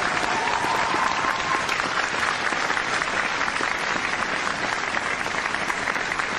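A studio audience at a live paranormal broadcast claps continuously and loudly, a dense, even wash of applause that holds steady from start to finish with no talk over it.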